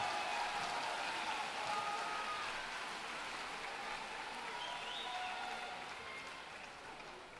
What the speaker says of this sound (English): Give a round of applause, graduating class, for them.